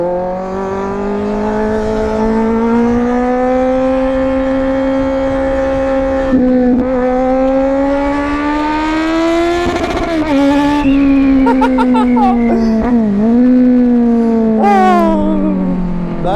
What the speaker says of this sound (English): It's fun hearing the engine go, you know, you hit the limiter.